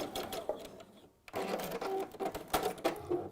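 A sewing machine stitches both sides of a piece of fabric in bursts, whirring close and loud with a short pause before a longer run, with faint speech nearby.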